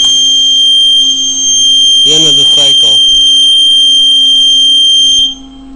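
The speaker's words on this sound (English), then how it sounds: "So as we push the sensor override switch down, the machine will beep and the machine will shut off." An FDR RSGe machine beeps loudly as its sensor override switch is pushed down: one continuous piercing tone sounds for about five seconds, then cuts off, with a brief spoken word over it.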